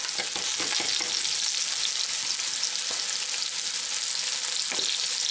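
Onions sautéing in a pan alongside hog testicles, a steady dense sizzle close up with occasional stirring clicks and scrapes throughout, no voices.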